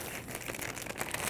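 Crinkly plastic packaging of Korean seaweed being torn open with teeth and crumpled up close, a quick burst of rustling and ripping with no voices.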